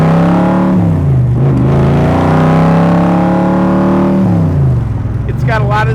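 Shelby Cobra Backdraft replica with a 427R V8, built in South Africa, revving loudly up and down in repeated throttle blips, a deep, rough engine tone close by with no talk.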